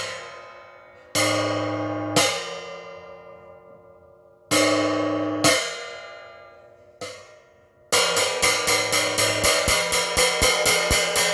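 A gong is dead-stick struck, with the stick held against the metal, making short muted metallic hits in pairs. They end in a rapid run of evenly spaced strikes, each note cut off quickly.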